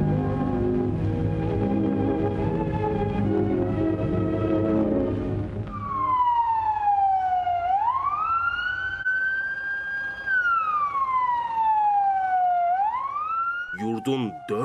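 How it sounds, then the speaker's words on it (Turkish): A long memorial siren wailing across the country, rising and falling loudly over street noise, with other sirens and vehicle sounds heard near the end. "Yurdun dört bir yanında sirenler çaldı."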